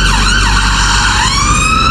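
A London ambulance siren on a city street wails loudly and continuously, its rising and falling tone close by and filling the whole moment with no other voices.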